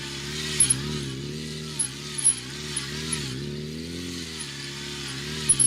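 A motorcycle engine holds a steady, wavering drone during wheelie circles, its pitch swaying as the rider's light throttle blips nudge it up and down, heard at moderate distance.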